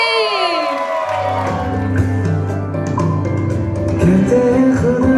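Crowd at a sangeet celebration for couple Heli and Jaymin cheers and whoops as the pair is welcomed, with music playing underneath throughout and rising energy near the end.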